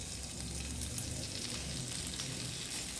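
Green chilies frying in a spoonful of oil or ghee in a hot pan while making veg fried momos, a steady close sizzle with soft crackle, continuous throughout and no talking.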